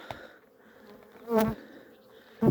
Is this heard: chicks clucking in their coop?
no